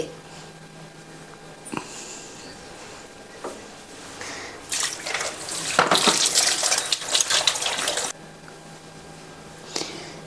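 Sweet potatoes are washed under running tap water, with quiet handling and a few knocks before a louder burst of splashing and rubbing in the middle, then a calmer trickle and a final bump.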